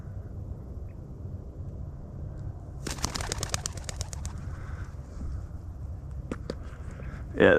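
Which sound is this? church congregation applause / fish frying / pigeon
pigeon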